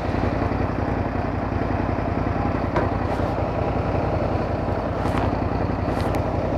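A motorcycle engine runs continuously at a steady idle, a close, even rumble with a fast regular pulse and no pauses.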